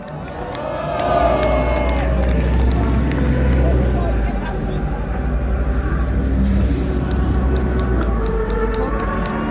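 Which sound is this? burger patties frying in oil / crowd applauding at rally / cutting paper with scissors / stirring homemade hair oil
crowd applauding at rally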